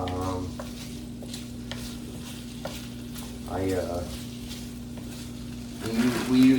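Frozen peppers and onions fry in a pan for chicken fajitas with a steady sizzle, stirred with occasional scraping clatter, growing louder near the end.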